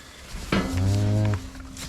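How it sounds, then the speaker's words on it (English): A purebred shorthorn cow on a calving farm gives one loud, close, drawn-out moo lasting under a second, heard against quiet farmyard background with no talk. "That's a purebred shorthorn cow, and it's purebred."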